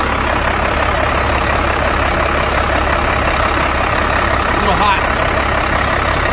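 A 12 valve Cummins diesel engine idles with a steady low rumble and hum, while someone speaks briefly over it.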